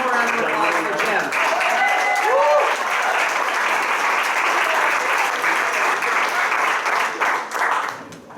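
Audience applause at a Vermont voting-rights celebration, a full room clapping steadily for a speaker, with some cheering and voices audible early on before the clapping continues evenly to the end.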